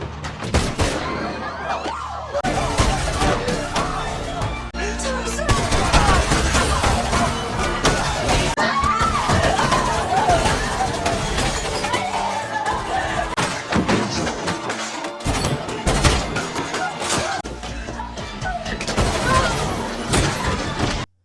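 Gunfire in a film scene of a student massacring classmates: repeated loud shots and thuds over a dense, busy soundtrack, with a voice talking throughout.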